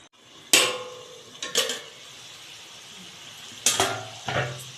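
A metal lid is set onto a pot of dry chicken kasha, giving sharp clanking hits at about 0.5 and 1.6 seconds and two more near 3.7 and 4.3 seconds, with a faint sizzle underneath.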